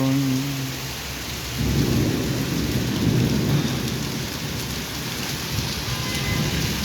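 Heavy rain pours down during a sudden Kalbaishakhi storm in Sylhet, a dense steady hiss with a low rumble of thunder swelling midway, no voices.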